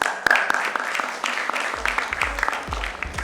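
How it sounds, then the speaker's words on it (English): A conference crowd at a nursing conclave in Mumbai claps steadily in warm applause, dense and sustained, with a few louder individual claps standing out near the front. "Let's give her a huge round of applause, please"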